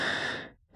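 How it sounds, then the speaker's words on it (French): A single deep, slow breath, heard close and soft, drawn out and fading to silence, with no talking over it. "prendre une grande et profonde respiration maintenant"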